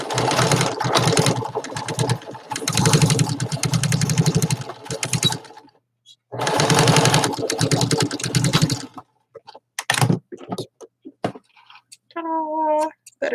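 A sewing machine runs in fast, buzzing bursts as it stitches back over a seam, stopping and restarting, with brief handling noises near the end.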